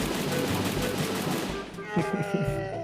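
Loud automatic gunfire in the video game Free Fire, a fast rattling burst that thins out midway into scattered shots, with someone talking.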